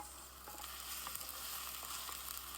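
Tomatoes going into a pan of frying ginger and garlic paste, giving a steady, close broadband sizzle that holds evenly throughout with faint crackles and no talk.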